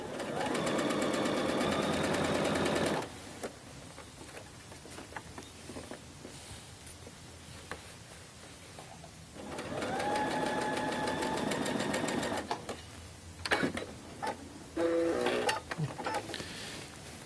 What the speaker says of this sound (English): I sewed from the shoulder seam in toward the neckline